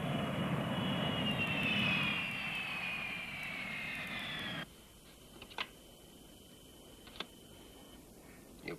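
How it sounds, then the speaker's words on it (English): A courier flight's aircraft engine roars loudly and steadily with a descending whine, then drops off abruptly to a quieter background broken by a few brief clicks and knocks. "John, there is a courier flight leaving for San Clemente in an hour"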